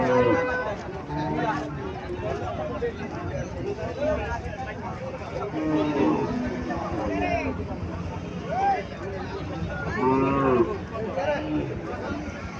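Several cows moo in drawn-out calls amid a noisy crowd of people talking at a wholesale cattle market in Cumilla, Bangladesh, with a loud moo near the end.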